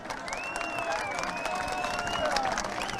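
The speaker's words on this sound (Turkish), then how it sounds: "Avşa Adası da alkışlıyor" Rally crowd on Avşa Island claps and cheers in continuous, fairly dense applause, heard from a distance with a faint voice carrying over it and a wash of murmuring.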